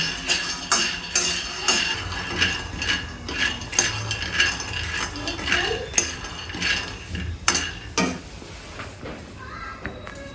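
Peanuts dry-roasting in a pan over a low gas flame, stirred with a utensil: repeated scraping, rattling and clinking of nuts against metal in an irregular rhythm, close and moderately loud, with no talk.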